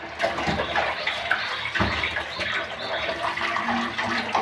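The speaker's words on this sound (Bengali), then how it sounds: "তো সবার প্রথমে মাছটাকে এখন ধুয়ে নিই।" Steady running tap water splashing over fish being washed in a home kitchen, continuous and fairly loud with small bumps of handling throughout.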